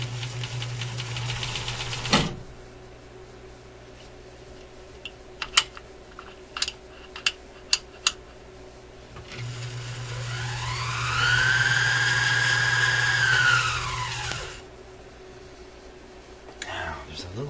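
Light mechanical ticks and clicks come first, then a sewing machine runs for about five seconds. Its motor whine rises, holds steady and falls away as it stops, and it is nearby and fairly loud.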